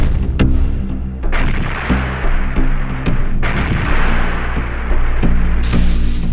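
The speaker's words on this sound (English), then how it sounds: "We are pounding them by missiles and heavy artillery" Heavy artillery and missile bombardment: repeated loud, close booms and blasts strike at irregular intervals over a constant dense rumble, with no voices.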